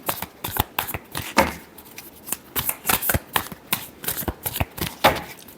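A deck of tarot cards is shuffled by hand in a steady run of crisp, close riffling flicks and slaps with no talking.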